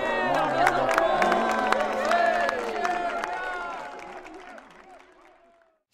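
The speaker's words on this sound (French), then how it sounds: "On peut les applaudir." A crowd cheers, whoops and claps at a live performance event, a dense, loud wash of applause with scattered shouts that gradually fades to near silence.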